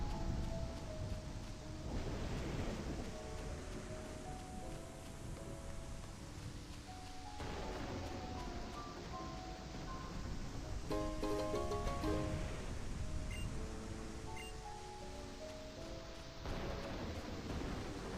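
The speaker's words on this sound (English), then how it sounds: "We'll just stand out here in the rain." Steady rain with low rumbles of thunder from the Pokémon Ultra Sun video game, a continuous soft wash of noise with a few swelling rolls and faint game tones layered over it.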